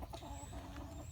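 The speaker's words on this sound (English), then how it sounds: "So this is where 4 silky roosters live" Silkie roosters in a medium prefab backyard coop give soft, low clucks, faint and brief, with no talking.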